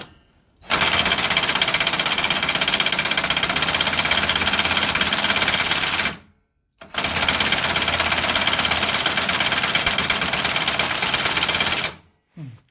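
An impact gun working on a snapped front axle bolt of a Westwood Gazelle W11 ride-on lawn mower, hammering in two long loud continuous bursts separated by a brief silence.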